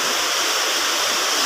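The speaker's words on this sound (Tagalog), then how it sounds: "Laki ng sapa" Large creek in Leyte rushing steadily, a loud, dense hiss of flowing water heard close with no change and no talking.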